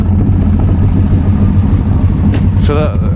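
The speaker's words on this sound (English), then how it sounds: "now it actually seems like the firing of the engine, the dum dum dum dum dum dum dum dum" A repaired engine runs steadily at idle with a low, even rhythmic thrum, loud and close throughout.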